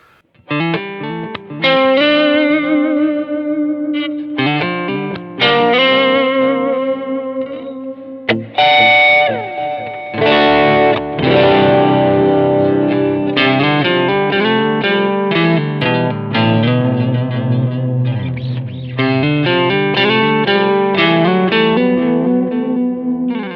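Electric guitar played through a reverb pedal, the wet sound swept from side to side with its filter turned down, giving a darker, washy tone; sustained chords and notes ring continuously and loudly, with no talking.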